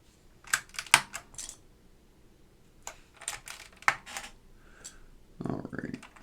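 Keys clatter in quick irregular bursts with pauses on a restored Portable PC II keyboard fitted with Alps SKCM White switches, close and crisp, with a brief low bump near the end.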